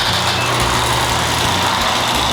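A 2025 BMW S1000RR sport motorcycle with the M package sits idling nearby, its engine giving a steady, loud low rumble with a fast even pulse and no voices over it.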